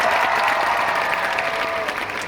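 Audience at an international horse show applauds a small-pony quadrille, a dense, continuous wash of clapping from a crowd throughout, fairly loud and steady.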